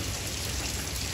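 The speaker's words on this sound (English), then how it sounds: "I kept hearing the rain getting heavy and heavier and heavier" Heavy rain pours down in a steady, dense roar with no breaks, loud and close, as flooding water runs across a road outside a house; no one speaks.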